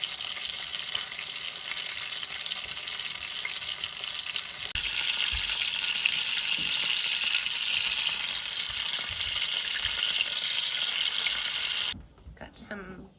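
Butter melts and sizzles in a pan for imitation crab meat in a cabin kitchen in Alaska, a steady close hiss that grows louder midway and stops abruptly near the end.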